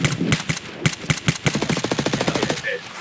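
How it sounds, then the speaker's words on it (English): Automatic gunfire in the video game Escape from Tarkov: a few spaced single shots, then a rapid, even burst of close shots in quick succession. "He's shooting you."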